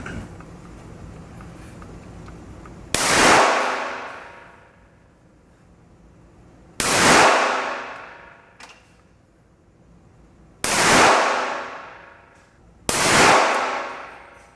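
Handgun shots fired at a shooting range, four loud close sharp bangs spaced several seconds apart, each with a long reverberant decay trailing off before the next.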